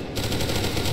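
Automatic gunfire from SCP: Secret Laboratory during its Halloween update: a loud, continuous rapid-fire burst that fills the whole second with dense, crackling shots and no talking.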